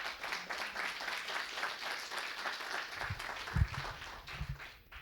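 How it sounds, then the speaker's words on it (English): Attendees at a Golang programming meetup in Vilnius clap for the winners, a moderate, fairly quiet patter of applause from a small group, with a few louder thumps near the end. "give a round of applause for these folks."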